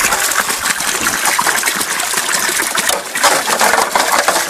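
Water spraying steadily down a gold sluice screen, a loud, continuous hissing gush with a rattling, splashing texture throughout.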